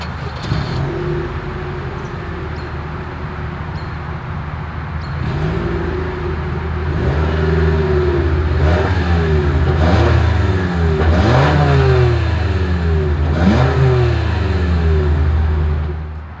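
A 2023 Toyota RAV4 engine revs repeatedly through its exhaust, sharp rising and falling pitch sweeps over a steady idle rumble, loud and close.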